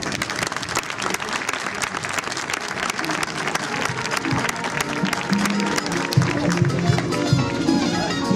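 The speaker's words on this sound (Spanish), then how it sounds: "Fuerte aplauso." An audience at an outdoor horse and flamenco show in Hervás bursts into strong, sustained applause, dense clapping from a crowd filling the space, with some voices mixed in.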